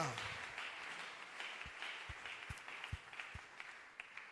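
Church congregation applauding, a steady wash of clapping with scattered louder claps standing out, under faint talk.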